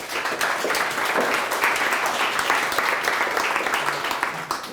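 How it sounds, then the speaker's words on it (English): An audience gives a presenter a warm round of applause at a talk, steady clapping from a nearby crowd with some voices mixed faintly underneath. "Please, send an applause for this man."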